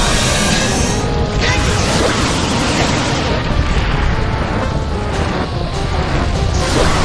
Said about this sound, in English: Yeah, you can hear the sound of damage.